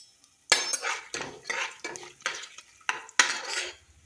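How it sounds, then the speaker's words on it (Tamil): Cashews tossed into hot ghee in a metal pan are stirred with a ladle, giving about seven sharp, close clinks and scrapes against the pan in an uneven rhythm with quiet gaps between. "இது கூடவே முந்திரி சேர்த்துக்கலாம்."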